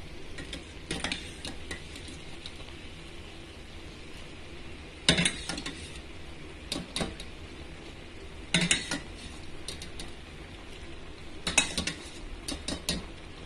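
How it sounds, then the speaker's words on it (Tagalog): Dry macaroni is tipped into a pot of tomato-paste sauce for an Arabic-style macaroni dish and stirred, with a quiet bubbling background broken by a few sharp clinks of a utensil against the pot. "Ilagay na natin yung macaroni natin."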